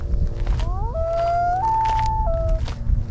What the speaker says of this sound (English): So the loons are right out here on the lake, and they're making a howling sound.